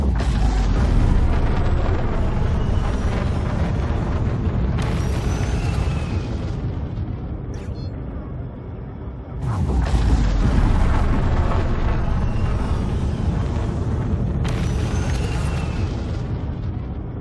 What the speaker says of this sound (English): This is the engine test.